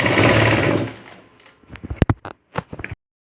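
A sewing machine stitches a blouse for a mini Paithani saree, running in a loud continuous burst for about a second before fading. Short bursts of stitching, clicks and handling noises follow, close by.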